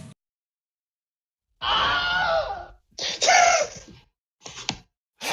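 A screaming sound effect, rising in two loud, strained bursts followed by a shorter cry, with silence before and between them; no talking.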